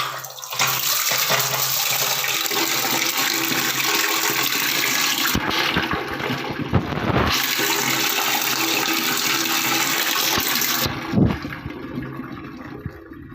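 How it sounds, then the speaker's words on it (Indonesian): Water gushes hard and continuously from a newly installed bathroom tap, a loud close rushing spray that briefly drops and changes around 5 to 7 seconds and near the end, with no talking. "airnya keluar muncrat begitu dahsyat ya"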